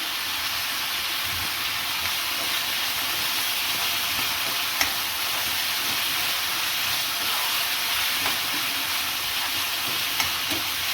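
Curry leaves sizzle in hot oil alongside browning onion as tempering for cabbage dal, a steady hissing crackle with a few sharp pops from close by.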